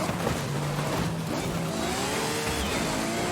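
A Ferrari FXX K in Forza Horizon 5 drones steadily at close range, its engine note rising and falling slightly with a continuous dense roar throughout, no talk over it.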